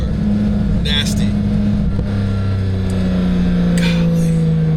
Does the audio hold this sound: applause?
no